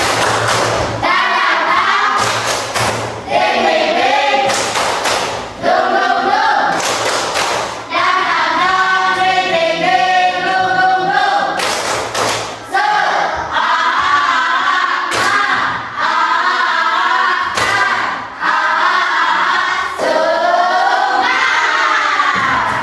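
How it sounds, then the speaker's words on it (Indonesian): A class of children in a classroom clap and chant together in the Indonesian 'tepuk semangat' clapping chant, a steady rhythmic pattern, loud and close, with bursts of shouting between phrases. "ayo kita tepuk semangat dulu. Tepuk semangat."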